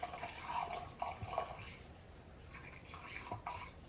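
Coolant gurgling and dripping in the cooling system of a 2008 Kia Sportage as air is purged, faint irregular bubbling and trickling heard close up, with no voices.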